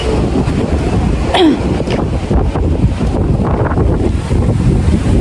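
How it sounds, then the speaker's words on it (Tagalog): Strong gusts of wind buffet the microphone with loud, rumbling roars near a train station in Japan, steady throughout, with a brief whistle-like sound in the middle. "Wah, ang hangin."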